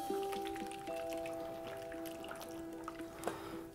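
Dill sauce poured from a saucepan over boiled veal, a faint soft trickle and dribble of thick liquid with small drips and a scraping clink near the end, quiet and close in a kitchen with a steady hum in the background.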